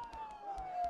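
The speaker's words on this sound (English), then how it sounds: "Don't those sirens sound really close?" Video game sirens wail faintly in a foggy scene, a steady gliding tone overlaid with sparse soft thumps.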